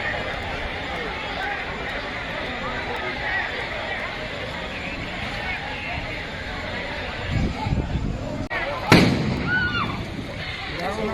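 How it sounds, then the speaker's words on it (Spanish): A police bomb goes off at a peaceful protest: a sharp, loud blast cuts through a murmuring, chattering crowd outdoors, followed by a burst of noise and scattered voices. "Policía tirando la bomba en una protesta pacífica"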